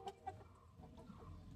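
Village chickens cluck softly nearby, giving two quick clucks at the start and then some fainter low murmurs, all quiet and brief.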